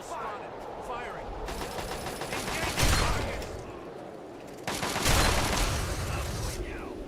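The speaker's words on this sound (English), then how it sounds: "Opening fire! Firing!" Gunfire in the game Fallout 3: bursts of rapid automatic fire with loud heavy blasts, a first burst rising to a peak and a second louder stretch later, with a voice calling out in the mix.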